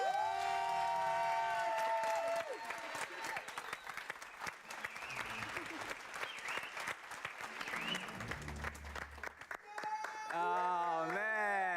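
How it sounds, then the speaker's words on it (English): A live studio audience applauds and cheers loudly for the winner of the Golden Baker Search Festive baking competition, a sustained wash of clapping that swells and then fades as music and voices take over near the end. "One more time, a resounding cheer for the winner of the Golden Baker Search!"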